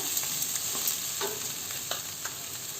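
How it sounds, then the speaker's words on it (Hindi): Garlic lightly frying in a pan, an even hissing sizzle throughout with a few faint stirring taps, close but fairly quiet. "और कनिक देर आधी लहसुन के हल्का भूज लेबै 1 मिनट देते"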